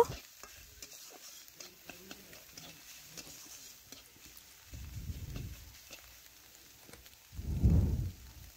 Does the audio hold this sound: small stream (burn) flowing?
no